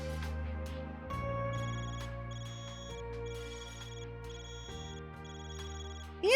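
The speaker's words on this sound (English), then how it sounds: "Man, your Zypha's ringing." A Zypha phone ringtone in the Trails Beyond the Horizon video game plays as a sustained electronic melody of layered chiming notes that shift pitch every second or so, loud and steady with no talk.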